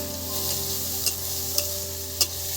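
Pieces of rohu fish fry in oil with a steady, close sizzle, broken by three sharp utensil clicks against the pan, while fish kalia is being cooked.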